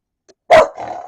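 A dog at home lets out a single sharp, loud bark close by, after a faint short sound, and the bark trails off into a low growl.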